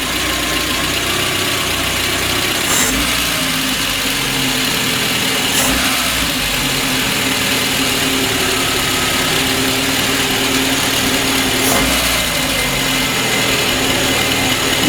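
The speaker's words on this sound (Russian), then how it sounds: "Чуть погазуй." A car engine with 185,000 km, misfiring, knocking and burning oil, runs loud and steady at close range, with a few faint brief rises in pitch. No one speaks.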